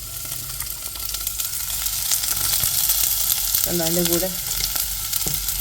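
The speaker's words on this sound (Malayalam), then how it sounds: "എണ്ണ ചൂടായി ആദ്യം നമ്മൾ ഗാർലിക് എടുത്തിടണം. ഗാർലിക്കും നമ്മുടെ സ്പ്രിംഗ് ഓണിയൻ്റെ വൈറ്റ് ഭാഗമില്ലേ, ആ ഭാഗവും നമ്മൾ എടുത്തിടണം." Garlic and spring onion whites fry in hot oil over a high flame for fried rice, giving a loud, dense, close sizzle with light crackles throughout; a voice speaks briefly partway through.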